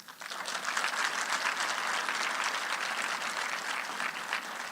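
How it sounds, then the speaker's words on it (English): Sustained applause from a large graduation ceremony audience in a hall rises quickly and holds steady, a dense, moderately distant roar of clapping hands. "I would like to ask the graduates to join me in a round of applause"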